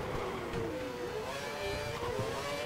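A Formula One race car engine in the video game F1 2012 roars steadily nearby as it leaves the pit lane, its pitch rising and falling as it accelerates, with no voices over it.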